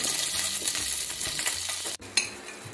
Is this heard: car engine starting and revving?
no